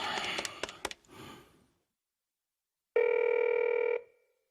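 Telephone ringing tone in a Korean radio drama: a single loud, steady electronic ring lasting about a second, heard alone after a stretch of fading background sound and silence.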